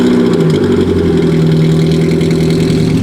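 An adult-sized toy car with its catalytic converter removed idles while warming up, a loud, steady, close engine drone with a rhythmic low throb and no talk.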